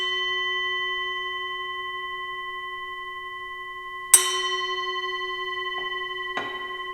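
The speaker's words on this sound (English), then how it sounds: "she's going to ring the bell for aunts, uncles, and other relatives and friends" At a memorial Christmas service at a crematory, a bell's sustained tone rings on, slowly decaying, then is struck again sharply, followed by two softer strikes, each leaving a long clear resonance in a quiet room.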